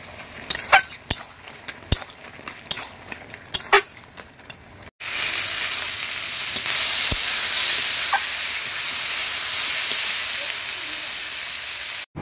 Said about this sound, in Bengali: গাছের বেগুন আর আলু দিয়ে মাছ দিয়ে ঝোল করছি